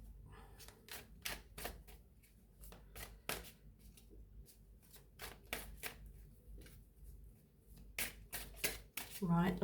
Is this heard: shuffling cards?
yes